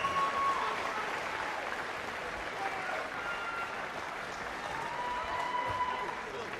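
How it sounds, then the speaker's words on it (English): Boxing crowd applauding after a count-out win for George Groves over Grigor Sarohanian, a steady dense wash of clapping and cheering filling the arena throughout, with no distinct voices on top. "please give a round of applause for Grigor Sarohanian"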